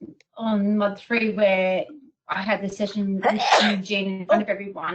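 A single sharp sneeze bursts out around the middle of ongoing talk, set among a woman's continuous speech that carries on before and after it.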